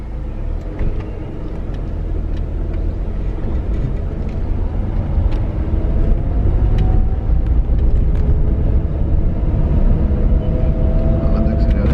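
A car engine hums and revs during a driving lesson, a loud, low, continuous drone whose pitch climbs steadily in the second half as the accelerator is pressed, with voices underneath.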